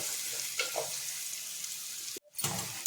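Potatoes sauté in a pan for a pea curry, giving a steady soft sizzle with faint stirring scrapes and a brief dropout near the end.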